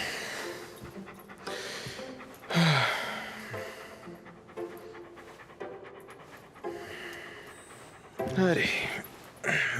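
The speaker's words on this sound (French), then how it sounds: "Le chien." A dog panting close by in rapid breathy bursts, with louder heavy pants and sighs at intervals, alongside quiet speech.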